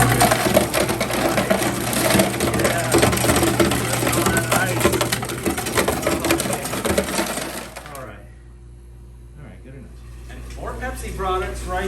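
Ice cubes clatter and crash loudly out of a hotel ice machine at Mandalay Bay in Las Vegas, a dense rattling rush that runs for about eight seconds before stopping, followed by quieter room noise and a few spoken words.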